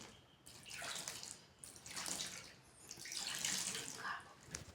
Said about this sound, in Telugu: నీళ్ళు పోస్తున్నా పిండిలో.